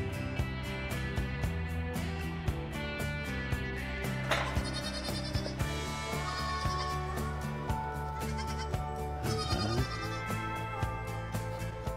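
Goats in a big pen bleat repeatedly, several overlapping calls, loud and close over a dense, steady backing of other sound.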